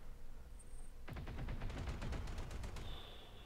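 Mech weapons firing in the BattleTech game, a rapid string of about a dozen sharp shots in quick succession after a quiet start, fairly faint and without talk.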